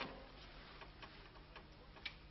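A person imitates a ticking clock with the voice, giving a steady series of soft, evenly spaced tick sounds with one sharper click near the end, heard alone at low level.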